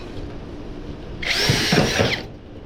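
A power drill bores a pilot hole for mounting a digital TV antenna on a roof, a single loud whining burst of about one second that rises abruptly and then cuts off against quiet background.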